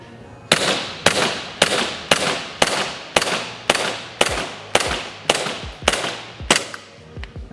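A WE Tech gas blowback airsoft pistol fires about twelve sharp, loud shots in a steady, evenly spaced rhythm, each crack with a short metallic slide clack, close up and with no talking.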